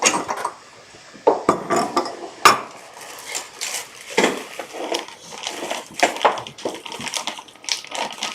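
A wrench strikes something hard, producing a series of sharp metallic clanks and clinks at irregular intervals, with some rattling between the louder hits.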